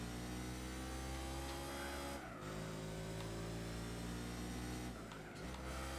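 A car engine revs steadily in a PlayStation 2 driving video game, a continuous loud synthetic engine drone that briefly dips twice as the pitch shifts, with no talk over it.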